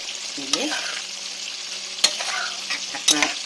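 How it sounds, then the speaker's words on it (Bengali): Ridge gourd with mustard and green chilli simmering in a covered pan, a steady close hiss and sizzle broken by a few sharp clinks of a lid or spoon, with no voices. "ঝিঙেগুলো সেদ্ধ হওয়া দেখো বন্ধুরা"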